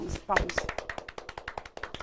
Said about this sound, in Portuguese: Palmas pro Marcos